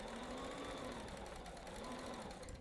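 A sewing machine runs continuously while stitching a quilt block, a steady fast mechanical whir with a faint rhythmic clatter, close and even throughout.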